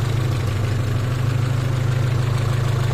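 A car engine idles steadily after starting, a close, even low rumble with a faint regular knock and no talk over it.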